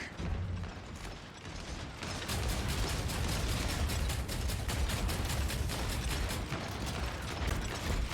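Mech guns firing in the video game Hawken Reborn, a dense stream of rapid mechanical clacks and ratcheting bursts running steadily and loudly throughout.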